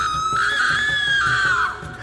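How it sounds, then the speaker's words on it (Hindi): A loud, sustained, high-pitched scream rings out in a horror animation about a haunted doll burning in a stove, one long wail that slowly falls in pitch over a low pulsing background. "तेज चीख गूंजी।"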